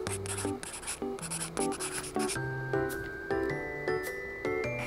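A pen scratches across paper in short, repeated strokes, close and fairly quiet, while soft tinkling music plays underneath.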